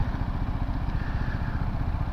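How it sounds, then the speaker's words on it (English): A BMW G310GS Rallye motorcycle engine runs steadily with a rapid, throbbing single-cylinder pulse, heard close and loud and unbroken with no talking. "The engine I find a little too revvy for my tastes."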